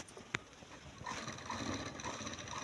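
A sewing machine stitches fabric for a baby pajama, with a sharp click, then a steady close mechanical whirr of the needle running continuously to the end.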